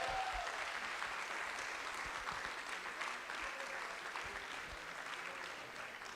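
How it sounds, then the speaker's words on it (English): Sustained audience applause at an evening gala program thanking the host venue, Sovereign Estates, a continuous wash of clapping that stays fairly even, then slowly tapers slightly, heard from within the crowd. "can we get a round of applause for Sovereign Estates tonight for hosting us?"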